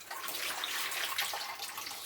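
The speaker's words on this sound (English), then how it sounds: "now it's time for the draining of the pulses" Water pours and splashes steadily as old soaking water is drained off pulses for a vegetable broth, a continuous moderate gush with no voices.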